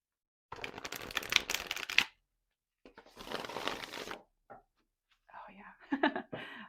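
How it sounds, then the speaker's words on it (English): Ink Witch tarot cards are shuffled up close in several bursts of rapid riffling and rustling, with short pauses between them and a soft whispering voice heard along with the cards. "Oh yeah, that's a nice shuffle"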